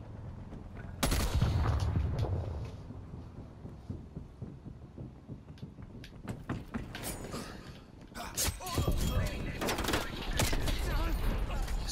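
Gunfire in Call of Duty Cold War comes in scattered loud bursts and single cracks, mixed with mechanical clicks and clatter of weapon handling, heaviest near the start and again toward the end.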